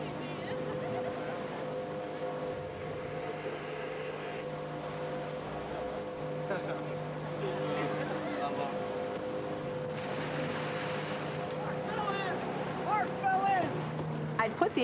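A pontoon boat's outboard motor runs at a good clip with a steady droning hum and a whine layered over it. Water and wind rush beneath it, and a voice speaks over the engine toward the end.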